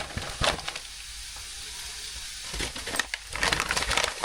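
Garlic sizzling and being stirred in a frying pan while cooking a beef korma, a steady close hiss broken by scraping, crunchy stirring bursts near the start and toward the end.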